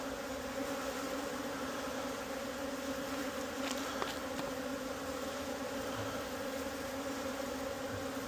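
A steady, dense buzz of many honey bees swarming close by at an opened hive, continuous and unbroken throughout.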